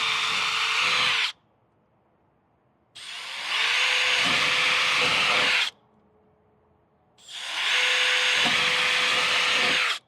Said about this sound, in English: we're going to drill 3 holes all the way through